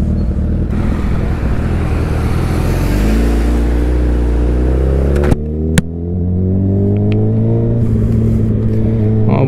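Suzuki Hayabusa motorcycle on a ride with a loud, steady engine drone that climbs in pitch as it revs, with a brief sharp burst midway and traffic-like road noise around it.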